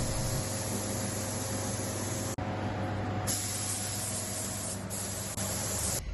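Steady, loud hiss of a spray gun painting a boat dodger in a sail loft, running almost continuously, with a brief break partway through.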